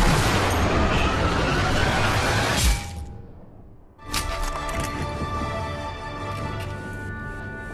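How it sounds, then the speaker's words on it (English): Sniper rifle fire at a wine bottle in the video game Sniper Elite V2: a loud, dense blast that rings out for a few seconds, a brief near-silent gap, then a second sharp report that slowly decays. "Then we're gonna shoot the next bottle."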